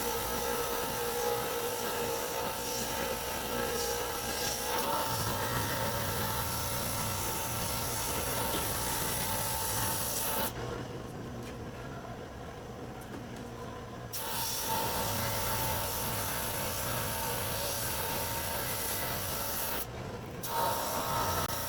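A drum sander fitted with 80 grit paper grinds across wood for a Shaker box, a loud continuous rushing rasp that briefly eases between passes and then resumes.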